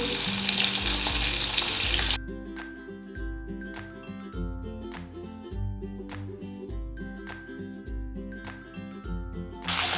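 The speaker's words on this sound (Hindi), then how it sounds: "1 से 2 मिनट तक इस प्याज को हमें इसी तरह से फ्राई करना है" Stuffed whole onions for a Rajasthani onion pickle hit hot oil with a loud, dense sizzle for about two seconds. A steady, rhythmic musical backing then takes over.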